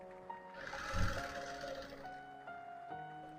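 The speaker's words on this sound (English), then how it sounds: "So I'm going to top stitch on it, like catching the pocketing and the clothes together." A sewing machine top stitching a slant pocket through the pocketing and garment fabric, a short close whirring run of rapid stitches that rises then settles into a steady motor hum.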